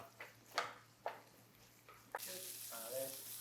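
Pork sizzles as it fries in a pan for a Thai stuffed tofu dish: a few scrapes and clicks first, then a sudden, steady, close hiss that continues with a brief voice near the end.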